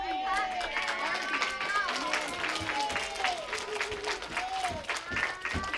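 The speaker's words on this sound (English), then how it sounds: "Why don't you all clap for each other?" Children at a school food drive clap for one another in scattered, uneven bursts, fairly quiet, while excited young voices chatter and call out over the clapping.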